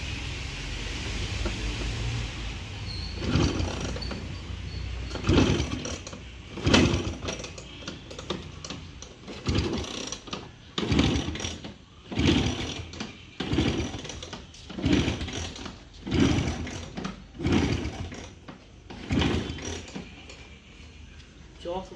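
A Bajaj Classic scooter left unused for four years is kick-started over and over, giving about a dozen rhythmic mechanical thumps and whirs spaced roughly a second apart, close by, without catching.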